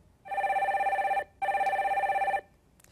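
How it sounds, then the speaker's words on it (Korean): A telephone ringing on a live call-in broadcast show, two loud electronic trilling rings separated by a short pause, alone and close. "빨리 전화 연결해보죠."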